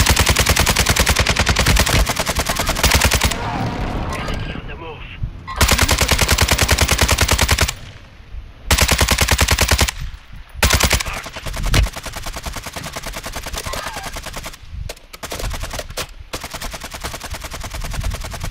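Automatic weapons fire in Call of Duty: Modern Warfare II rattles out in loud, rapid bursts separated by brief pauses and scattered single shots, close and dominant over the whole stretch.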